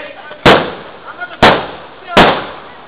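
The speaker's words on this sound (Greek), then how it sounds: "Τα βεγγαλικά." Three sharp, loud firework bangs go off about a second apart at an Easter night celebration, each with a short crackling tail over a murmur of crowd noise.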